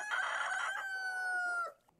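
A single long, strained crow from one of the sick rescued chickens, close and clear, holding steady for over a second before cutting off into quiet.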